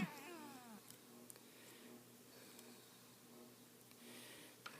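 A pet cat gives a short meow right at the start, then the room goes quiet apart from faint scattered ticks and clicks.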